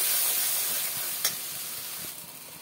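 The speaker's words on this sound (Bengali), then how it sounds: "দিয়ে দিলাম মটরশুঁটি বাটা, একটু মশলার সাথে কষিয়ে নেব।" Ground green pea paste sautéing with spices in a pan, a steady close sizzle and hiss with a faint scrape near the middle, no voices.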